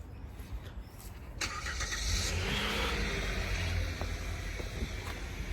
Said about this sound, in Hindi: गाड़ी स्टार्ट हो रही थी असल में